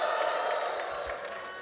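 A crowd at a rap battle cheers and shouts in a loud, continuous roar of voices that fades slightly toward the end.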